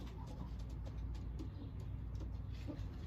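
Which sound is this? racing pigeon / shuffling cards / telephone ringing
racing pigeon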